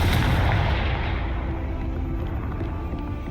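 Spell blasts in the video game Hogwarts Legacy, a loud booming burst at the start that decays into a rumbling tail with no talking.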